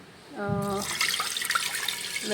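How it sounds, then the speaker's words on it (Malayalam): Water gushes steadily into a pressure cooker holding rice for a medicinal karkidaka kanji, a close, full pouring rush that starts right after a brief voice and continues to the end. "വെള്ളം ഞാനിത് ചേർത്ത് കൊടുത്തിട്ടുണ്ട്"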